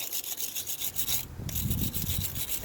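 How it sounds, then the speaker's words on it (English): Bolt threads from a 1999 Honda CR-V distributor job are scrubbed clean with a wire brush or sandpaper, making steady rhythmic rasping strokes, close and fairly loud, with a brief pause midway. "sand them until your threads are nice and clean"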